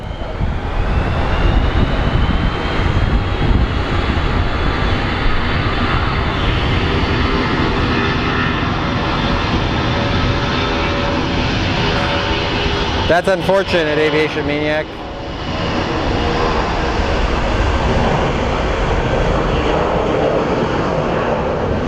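A 62-year-old re-engined military airplane runs its engines at Phoenix Sky Harbor airport, a loud, steady roaring drone that holds throughout, briefly broken by a short burst of talk partway through.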